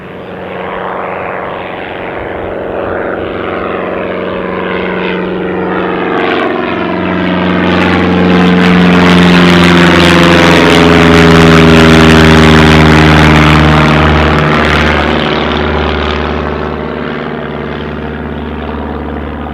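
A propeller airplane at Newcastle International Airport roars loudly as it takes off, engine drone swelling to a peak and slowly fading, with a rising and falling pitch as it passes.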